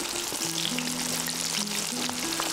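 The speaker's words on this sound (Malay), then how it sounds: "Lepas tu korang goreng ayam dalam 6 ke 10 minit ataupun sampai masak." Turmeric-coated chicken pieces fry in hot oil, giving a continuous close crackling sizzle with faint steady tones in the background.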